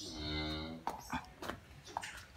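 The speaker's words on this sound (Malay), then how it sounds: "Si Krishna diapit sama sapi-sapi monster kayak kecil." Cattle low with a long, loud moo at close range, tailing off into a few short snorts and shuffling noises in a farm livestock pen where cows are being bathed.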